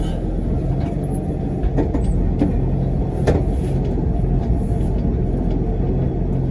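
An old International truck engine rumbles along at a steady low idle, a dense continuous drone with a few faint clicks and knocks on top, no voices.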